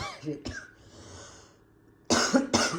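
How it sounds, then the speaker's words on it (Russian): A woman, ill with a choking cough, coughs a few times close up, a short harsh cough at the start, a pause with faint breathing, then two loud rough coughs in quick succession. "Приболела прям, не могу, кашель душит"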